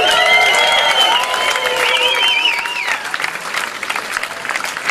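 Audience applause at a live jazz concert in Hunziken as a bass player is introduced, loud sustained clapping with cheering, while the band's instruments ring out sustained tones over it before fading.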